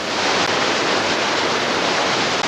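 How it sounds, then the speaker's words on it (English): Water pours steadily over a river weir in a continuous, loud broadband rush, sounding close and unbroken with no voices. "You can put an obstruction into the river like this weir."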